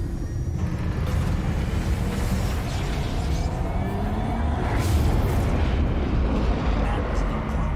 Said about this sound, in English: The Omni Cannon's ready to fire on your...